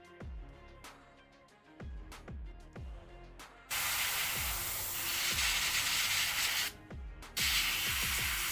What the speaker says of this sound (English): An extra little thing that I found that helps is having an airbrush.